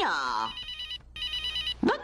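A telephone rings in an animated Spanish-language children's show: a steady electronic trill that repeats for about a second, pauses briefly, then rings again, with cartoon voices just before and after.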